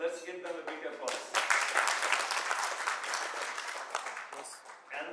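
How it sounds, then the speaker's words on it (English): Audience applauding at a business networking event at The Westin Dhaka, dense sustained clapping from a crowded room that carries on for several seconds, with a voice speaking over the start. "Now let's give them a big applause."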